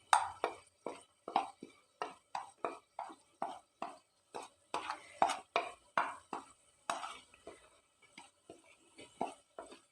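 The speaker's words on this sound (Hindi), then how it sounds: "सब चीज़ों को मिक्स कर लेते हैं।" Dry spices and ingredients for homemade nimko, including chaat masala, cumin and salt, being mixed in a bowl: a steady run of sharp, close scraping clicks and taps repeating about twice a second, with no talking.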